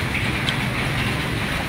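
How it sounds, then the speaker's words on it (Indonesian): Light drizzle after heavy rain at a street parking area where motorbikes stand, a steady soft hiss of fine rain with faint patter and no voices. "sebelumnya tadi hujan deras, saat ini masih gerimis."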